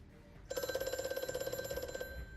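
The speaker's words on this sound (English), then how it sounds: "It's just a phone, Clara. Nothing happens when you answer the phone." A telephone rings in a Doctor Who episode, "Time Heist": one continuous trilling bell-like burst lasting about a second and a half, fairly quiet, with no voices over it.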